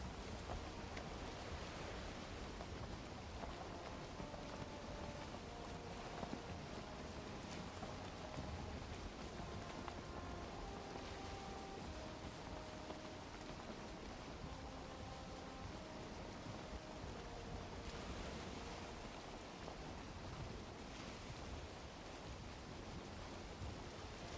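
Rain storm while sailing in the video game Valheim, a constant broad hiss of falling rain with faint distant rumbles and soft background musical tones, steady for the whole stretch.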